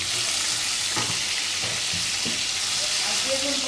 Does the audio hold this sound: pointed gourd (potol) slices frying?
yes